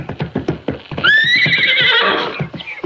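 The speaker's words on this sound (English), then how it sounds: "Take it easy with that horse." A jumping horse's hooves thud in a quick rhythmic clip-clop, then the horse lets out a loud, drawn-out whinny close by, with hoofbeats resuming as it fades.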